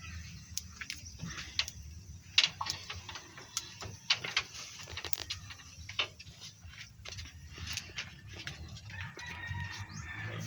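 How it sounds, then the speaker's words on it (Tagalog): Chickens cluck repeatedly outdoors, with short sharp calls scattered over a steady background bustle, and a rooster-like call now and then. "Ang manok na guys, ang manok na guys"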